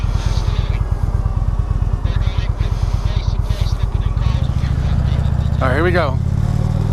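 A 2016 Indian Roadmaster motorcycle rumbles with a steady low engine throb, pulling off and rising in pitch near the end, while a voice talks briefly over it.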